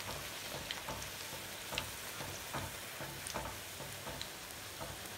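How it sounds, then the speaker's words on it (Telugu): Puri deep-frying in hot oil in a desi-style Telugu home kitchen, a steady close sizzle and bubbling hiss throughout with faint spatters and stirring, no talking. "బాగా ఫ్రై చేసుకోవాలి."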